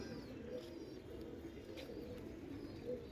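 Male pigeons coo softly in a pigeon loft in Mirpur, low repeated murmurs blending into a faint, steady background with no talk.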